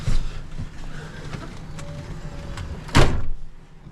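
A trailer door on a delivery truck is opened, with a loud metallic clunk and scrape near the end, following a stretch of low rumbling background noise and faint knocks.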